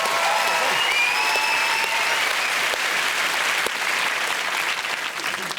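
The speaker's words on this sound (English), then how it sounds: "Well, that's worth a round of applause." Studio audience applause on a comedy TV show, loud sustained clapping with a few whoops near the start, steady and close throughout before tapering at the end.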